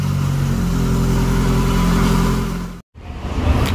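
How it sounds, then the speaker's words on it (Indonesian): A used Proton car engine runs at a steady idle, a loud close mechanical hum that briefly cuts out near the end before picking back up. "Oh, mesin hidup."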